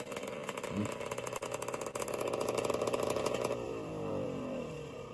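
A vintage snowmobile engine runs with a steady, buzzy, chainsaw-like drone that holds a constant pitch, then shifts to a smoother tone partway through, sounding as if replayed from a recording.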